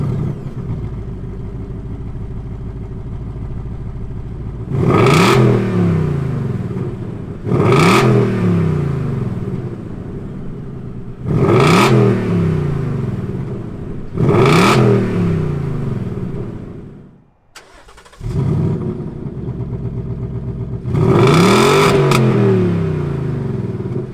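Two 2020 Ford Mustang GT V8s fire up and rev hard in repeated sharp bursts, each climbing and falling back to a rumbling idle, with a brief drop to near silence midway; loud and close, no talking.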